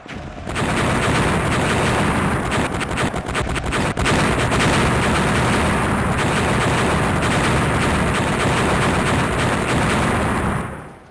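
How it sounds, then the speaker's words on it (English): Dense, continuous artillery and gunfire of a creeping barrage, with loud overlapping booms and rattling shots that roll on for about ten seconds before cutting off. "The idea was to shell no man's land in a long line of artillery fire."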